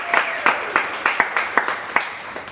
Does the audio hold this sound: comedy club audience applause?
yes